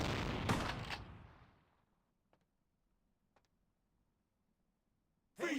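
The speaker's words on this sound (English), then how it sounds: "They're accidentally shooting each other trying to shoot me." Gunfire from enemies shooting at each other in the game Vampire The Masquerade: Bloodlines: one loud opening shot decaying into a rumbling tail, then a couple of faint distant pops and another sharp blast at the end.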